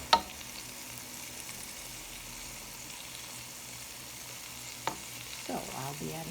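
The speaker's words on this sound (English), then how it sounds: "All right, the meatballs are browning nicely. And I have added the peppers that were stuffed." Meatballs and stuffed pasilla chile peppers browning in a pan, a soft steady frying hiss with a couple of sharp utensil clicks and a short scraping stir near the end, fairly quiet and close.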